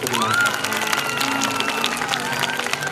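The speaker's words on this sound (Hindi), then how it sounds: "तालियां बजाओ जोरदार बच्चों की" Applause and cheering from a crowd for children at a school gathering, continuous clapping mixed with shouts and excited voices, fairly loud and steady.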